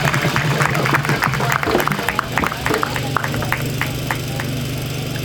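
Symposium and exhibition audience applauds, a dense patter of clapping hands that gradually thins out, with a steady low hum running underneath.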